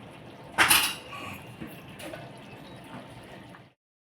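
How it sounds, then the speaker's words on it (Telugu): A spoon stirs potato curry in a metal pot, clinking sharply against the sides a few times. Faint bubbling of the liquid sounds underneath. "ఒకసారి కలుపుతాను"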